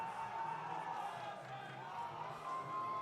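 A stadium crowd cheers at an amateur football game as backups take the field, a faint, distant, steady roar with occasional whoops.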